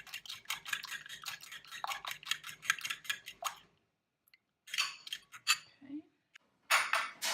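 A fork beats eggs in a bowl with fast, clicking strokes for several seconds, goes quiet, then resumes in two shorter bursts, with a brief spoken word in between.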